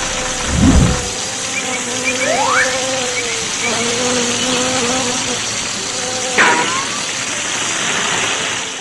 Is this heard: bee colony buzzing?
yes